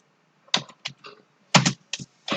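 Typing on a computer keyboard to enter text in Scratch, several short bursts of close, sharp key clicks separated by brief pauses, with no voices.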